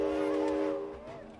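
A train whistle from the video game It Takes Two sounds as a steady, loud tonal blast that fades toward the end, while players talk during play.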